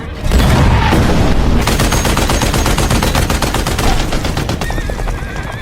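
Dense, loud gunfire and cannon fire in a sustained rapid barrage of overlapping shots and booms, with no pauses and no voices.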